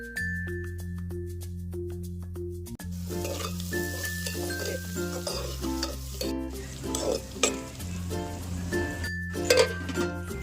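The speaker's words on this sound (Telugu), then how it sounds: "ఉల్లిపాయలు అలాగే కరివేపాకు వేసుకొని ఒకసారి కలుపుకోవాలి" Onions, chillies and curry leaves sizzle in hot oil while a spoon stirs the pan, scraping and clinking over a continuous frying hiss, with a low steady hum running beneath and no talking.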